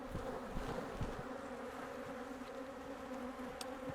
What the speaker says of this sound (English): Shaking the bees in.